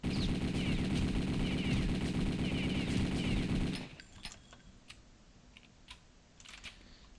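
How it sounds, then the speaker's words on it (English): Thompson submachine gun fire in the video game Return to Castle Wolfenstein: a rapid, sustained burst of crackling automatic shots for about four seconds, then quiet with a few faint clicks. "I'm gonna shoot at the head now"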